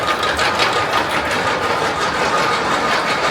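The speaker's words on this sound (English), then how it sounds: "Love the sound of the anti-rollbacks on that lift hill." Anti-rollback ratchets clicking rapidly and steadily as a coaster train climbs the lift hill of The Vampire at Chessington World of Adventures, with a continuous mechanical rattle and hum throughout.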